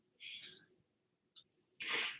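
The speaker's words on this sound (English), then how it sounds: "Sorry, I'm gotta sneeze." A sharp sneeze bursts out at the end, preceded by a quick intake of breath and a faint sniff, close and fairly loud.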